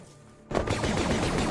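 Rapid blaster gunfire in a Star Wars horror video game, a dense continuous burst of shots starting abruptly after a quiet moment and staying loud to the end.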